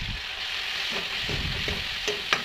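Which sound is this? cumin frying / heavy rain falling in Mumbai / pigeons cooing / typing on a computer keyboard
cumin frying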